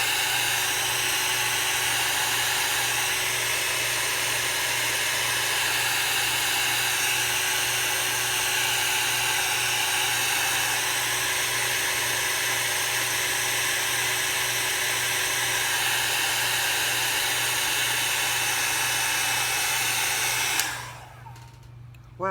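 A hair dryer on its cool setting blows steadily over opaque white craft plastic inked with alcohol inks, a loud, even whir with a low hum that runs unbroken for about twenty seconds before cutting off.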